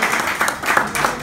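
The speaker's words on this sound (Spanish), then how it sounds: "Un aplauso para acá." Audience applause at a voice, singing and breathing workshop, a short steady burst of clapping from the room that fills the whole moment, with no talk over it.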